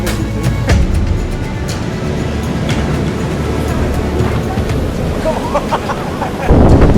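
Strong wind and sea waves breaking along an exposed coast make a steady, loud roar throughout, with gusty buffeting and a louder surge near the end.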